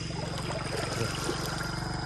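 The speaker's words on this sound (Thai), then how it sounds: "น้ำใสนี่สิเป็นจุดน้ำไหลตลอดเลย" Clear natural stream water runs steadily, a close, continuous wash of flowing and trickling that stays even throughout, with a low steady hum beneath it.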